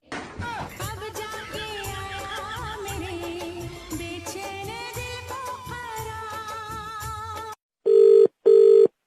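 Busy music plays for several seconds, then it cuts out and two loud, electronic telephone rings sound alone in quick succession.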